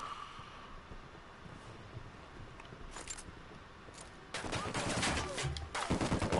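Bursts of machine gun fire ring out on a milsim patrol, faint at first, then a louder sustained stretch of rattling rounds near the end, with outdoor ambience around.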